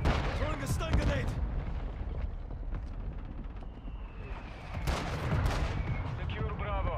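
A stun grenade goes off during a Call of Duty: Modern Warfare II multiplayer match, amid loud bursts of nearby gunfire and explosions, with radio-style voices talking over the game sounds.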